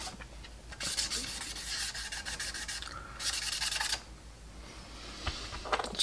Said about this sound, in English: Give it a quick rub.